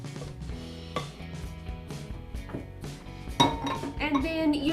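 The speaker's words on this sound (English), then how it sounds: "Put all the batter off of your little paddle so you don't waste any of that batter." Raspberry red velvet cupcake batter is scraped off a mixer paddle with a utensil, giving a run of metallic clinks, taps and scrapes, ending in a louder burst of clattering.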